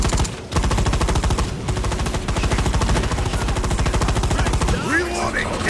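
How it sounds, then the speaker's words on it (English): Rapid automatic weapon fire in the shooter game Firefall during an incursion battle, a loud, dense, continuous burst lasting several seconds with brief gaps, with game voice lines mixed in. "Detected human weapon fire."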